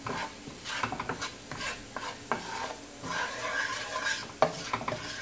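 Garlic fries in a pan for a Jamaican-style pineapple shrimp curry, a close sizzle broken by rhythmic scraping strokes of a utensil stirring against the pan, with a sharp clack near the end.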